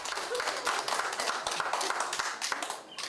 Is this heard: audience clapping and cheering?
yes